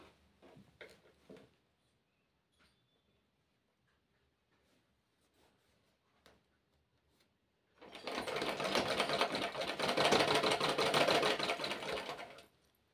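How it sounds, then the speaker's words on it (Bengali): A sewing machine stitches the elastic casing of girls' underwear, starting after a few scattered clicks and handling noises with a loud, fast, continuous run of needle chatter lasting several seconds, close up. "এলাস্টিকের ভরার জন্য যে ঘরটা করা আমি সম্পূর্ণ সেলাই করে চলে এসেছি"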